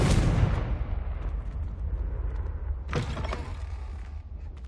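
A Confringo blast spell erupts in Hogwarts Legacy, a loud burst at the start decaying into a rumbling tail, then a second sharp crackling impact about three seconds later over a steady low game ambience.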